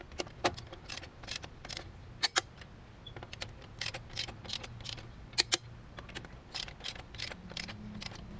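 A torque wrench clicks while tightening wheel lug nuts in a star pattern on a 2014 Chevrolet Silverado fitted with 2-inch wheel spacers. Crisp close metallic clicks repeat in quick irregular succession over a faint low hum.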